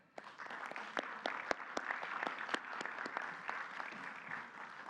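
An audience at a youth day gathering for an interinstitutional youth agenda event applauds steadily, with dense overlapping hand claps sounding fairly distant and soft throughout.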